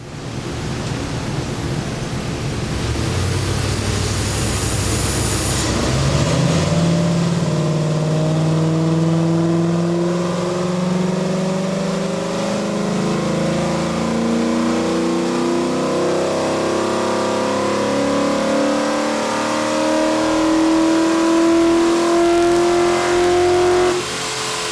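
A Ford F150 engine fitted with a Brute Force cold air intake climbs from idle into a long, loud rev, its pitch rising steadily and then holding high and close, with no talking.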